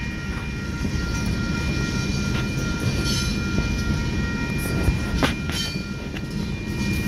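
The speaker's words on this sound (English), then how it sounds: "So, yep, that's the end of the oil train." An oil freight train rumbles steadily past a road crossing in Bakersfield, California, with rolling wheel noise, occasional clanks and thin metallic squeals.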